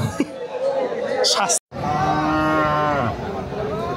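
A cow lowing at a crowded Eid sacrificial cattle market, one long drawn-out moo close by, with buyers and sellers chattering and bargaining around it.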